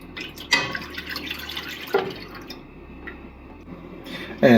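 Two cups of 2% milk pour into a pot on a stovetop for mac and cheese. A steady liquid trickle runs throughout, with a few brief splashy spikes near the start and end.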